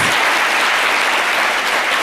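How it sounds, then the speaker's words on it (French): Steady, dense applause from a studio audience on a quiz show, rewarding a correct answer; continuous clapping fills the whole moment at full loudness with no voices over it. "Ça s'applaudit"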